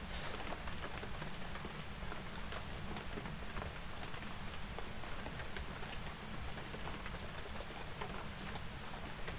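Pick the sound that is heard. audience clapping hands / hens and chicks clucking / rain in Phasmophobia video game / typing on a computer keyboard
rain in Phasmophobia video game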